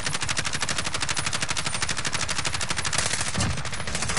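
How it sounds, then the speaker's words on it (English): Gunfire in the video game Warzone sounds as a dense, rapid string of loud shots that rattles on without pause. "This guy's still sniping at us."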